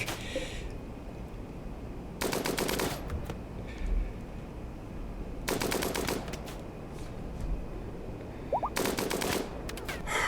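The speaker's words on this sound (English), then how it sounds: "what an annoying little mini turret" A mini turret firing in the Rimworld video game: three rapid bursts of automatic gunfire, each lasting under a second and spaced a few seconds apart, over a steady low background.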